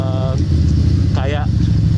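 A 250cc V-twin motorcycle engine revs briefly under a rider's voice, its low, lumpy burble rising a little and then settling back.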